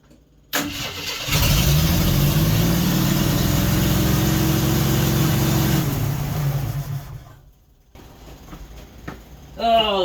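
A 1976 AMC Gremlin, stored for 36 years, cranks and catches, then runs with a loud, steady engine roar for several seconds before cutting off, followed by quieter clatter and a brief burst of noise at the end.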